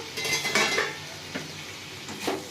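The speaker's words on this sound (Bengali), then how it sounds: "এবার আমি ঢাকাটা খুলে দেবো" A lid comes off a pot of bitter gourd chorchori cooked with fish heads, giving a couple of metallic clanks and scrapes against the rim, with a softer knock near the end and a faint background hiss.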